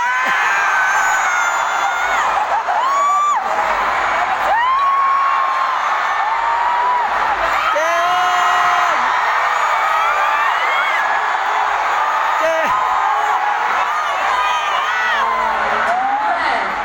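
A large arena concert crowd screams and cheers loudly and without a break, with many shrill overlapping voices and whoops rising and falling throughout.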